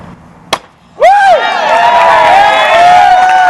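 A glass smashes underfoot in one sharp, brief crack at a Jewish wedding reception. A loud crowd immediately bursts into sustained cheering, whistling and clapping that continues to the end.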